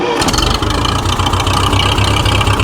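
A Grey Fergie tractor engine fires up and settles into a loud, close, steady tick-over with a fast, even low chugging rhythm.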